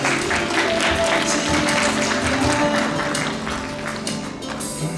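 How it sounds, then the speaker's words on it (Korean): A crowd at a press event for a new JTBC travel variety show applauds warmly as the production staff come on stage, a dense and continuous wash of clapping that lasts throughout. "제작진 분들도 역시나 따뜻한 박수로 환영해 주십시오."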